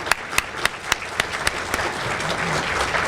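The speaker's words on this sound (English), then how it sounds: "Give Deb a round of applause" Applause at a United Way volunteer breakfast, a crowd clapping steadily in a room while a few sharp nearby claps stand out at a regular beat, continuing without talk.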